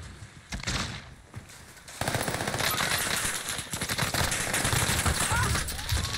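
Gunfire in a video game battle at Watch Tower: quieter scattered shots first, then from about two seconds a sustained, loud stretch of rapid automatic fire with bursts overlapping to the end.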